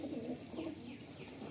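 A Madrasi pigeon coos softly nearby in a short, low, rolling call that repeats twice within a second and a half, quiet against faint background hiss.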